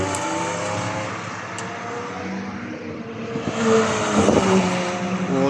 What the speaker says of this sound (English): Here comes another vx220 supercharged as well.